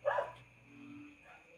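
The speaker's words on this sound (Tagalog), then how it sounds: "Maraming asong tumatahol" Several dogs barking in a residential neighbourhood: one short, faint bark burst at a distance, followed by a low background murmur.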